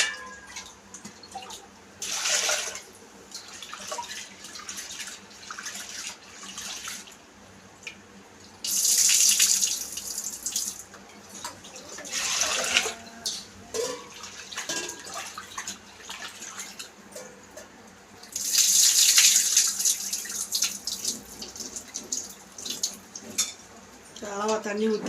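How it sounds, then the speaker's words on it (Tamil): Water gushes from a kitchen tap in two loud bursts while cooking pulse dal, with quieter splashing, stirring and handling sounds between them, fairly close. "அளவாக தண்ணி ஊற்றி"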